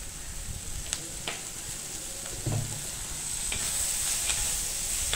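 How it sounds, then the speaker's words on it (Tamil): Dried red chillies, shallots and curry leaves sauté in hot oil for a chicken uppu curry, giving a steady, moderate sizzle with a few light clicks from stirring. "இப்போ வரமிளகாயும் சின்ன வெங்காயமும் கருவேப்பிலையும் நல்லா வதங்கி இருக்கு."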